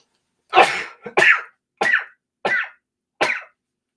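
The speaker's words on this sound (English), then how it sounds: "So I'm going to sneeze." A burst of sneezes, five sharp explosive bursts in quick succession, close and loud, with silence between them.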